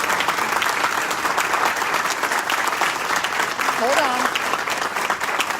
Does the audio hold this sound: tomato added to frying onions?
no